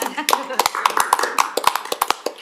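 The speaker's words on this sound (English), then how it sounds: "I think it deserves a round of applause." At a Metro Council meeting, a handful of people give brief, sparse applause, with scattered individual claps sounding close and distinct rather than a dense crowd ovation.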